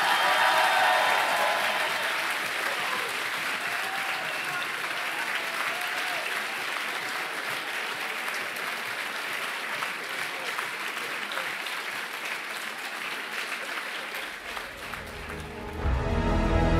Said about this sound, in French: je vous demande donc une tornade d'applaudissements pour votre roi, Monsieur Éloïc Perras